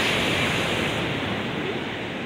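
Sea waves at Radhanagar Beach on Havelock Island wash in a steady, broad rush of surf, close and fairly loud, with no voices over the continuous roar.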